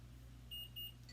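An Omnipod insulin pump controller gives two short, clear electronic beeps in quick succession while deactivating the insulin pod, faint against a low steady hum.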